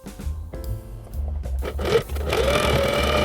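A sewing machine stitches a thrifted shirt that is pinned together. Short, rapid mechanical bursts come first, then a longer continuous run of stitching, close and clear.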